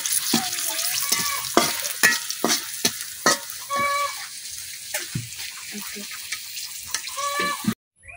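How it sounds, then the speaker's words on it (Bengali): Green chilies frying in oil in a village kitchen, crackling sizzle broken by repeated scraping and clanking of a spatula against the pan, close by. "আমি কাঁচামরিচ গুলা তেলটা ভাজিয়ে নিতেছি"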